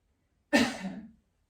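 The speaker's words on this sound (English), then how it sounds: "cough again if you need" A single sharp cough, close and fairly loud, trailing off over about half a second in otherwise quiet surroundings.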